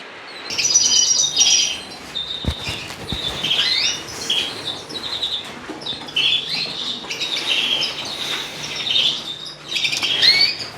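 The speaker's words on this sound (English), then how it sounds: "watching the progress of the birds here in Davidsbirdroom during the breeding season" Breeding birds in an indoor bird room chirp and tweet busily, with overlapping high calls throughout, brief wing flaps and a few sharp clicks from the cage, nearby and fairly loud.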